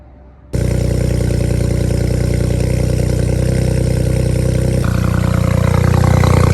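A BMW 335i with a 500 hp N54 engine and full bolt-ons, out on its first drive, starts up and runs with a loud, steady, close drone that deepens and shifts slightly partway through.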